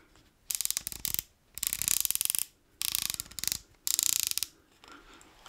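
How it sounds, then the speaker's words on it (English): Lockable elevation turret on a Discovery Opt ED 3-15x50 SFIR FFP rifle scope being turned, giving four quick bursts of crisp, evenly spaced ratcheting clicks, close and clear with short pauses between. "Now, listen to this click."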